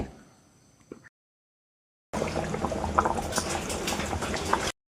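Kerala-style fish curry with thick gravy bubbling in a pan over low heat, a dense crackling, popping simmer heard close up after a short gap of silence, preceded by faint quieter bubbling, with no talk.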